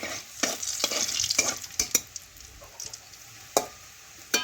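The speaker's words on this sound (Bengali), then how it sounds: "একটু গোটা জিরে ভালোভাবে ভেজে নেব এইভাবে নাড়াচাড়া করে" Whole cumin seeds crackle in hot oil as a spoon stirs them, giving sharp irregular scrapes and clicks over a light, fading sizzle, close and without speech.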